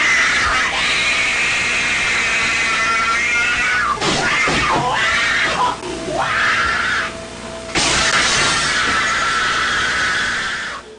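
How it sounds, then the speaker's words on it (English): A man shrieks wildly like an animal while wrecking a children's room, giving loud, sustained, strained screams that waver and break, with crashing bursts of destruction in between. "until finally he is shrieking like a wild animal and destroying the whole room"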